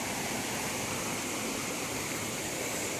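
Cold, clear forest spring water spills over a waterfall deep in the woods, a steady, dense rush of splashing water that stays loud and unbroken throughout, with no voices.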